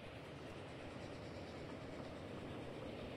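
Trains rolling along rail tracks in the video game Transport Fever 2, a steady continuous rumble of wagons with a faint clickety-clack, held at an even loudness throughout with no talk.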